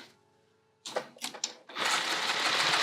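A sewing machine stitching a fabric bag seam runs in a few short bursts, then settles into one steady continuous run, close and fairly loud.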